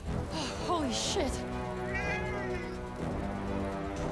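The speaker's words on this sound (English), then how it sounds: "Cat, get the cat." A cat meows several times in Forspoken, short rising-and-falling cries up close, with a person speaking over and between them.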